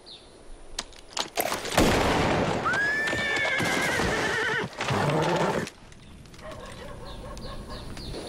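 A horse in a Western frontier town street gives a loud, wavering whinny in the middle of the clip, surrounded by clattering hoof steps and sharp bangs, before everything drops to a quieter, steady outdoor background.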